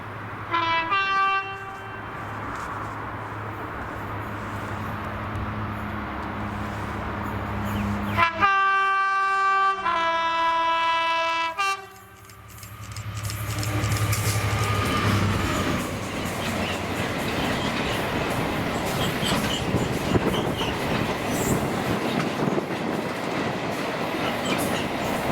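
Class 66 locomotive 66623 rumbles past hauling the 6K26 freight from Newton Junction to Millerhill in Scotland. A loud two-tone horn blast sounds midway, then heavy wagons roll by with continuous clattering and rumbling.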